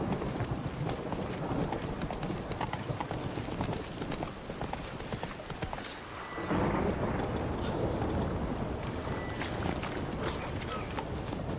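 A horse gallops in The Witcher 3 video game, with a rapid, steady clip-clop of hooves running throughout over a rumbling, stormy ambience that swells louder about halfway through.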